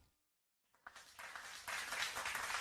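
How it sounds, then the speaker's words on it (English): Applause from an online crowd for voters of a crypto show's synergy poll, starting after a brief silence and swelling into steady, dense clapping that grows louder toward the end. "that applause is for you"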